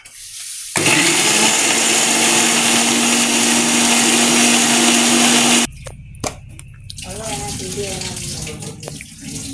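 A kitchen blender whirs loudly and steadily for about five seconds while making lime juice with ginger, cashews and sugar, then cuts off abruptly, leaving softer clatter and faint voices.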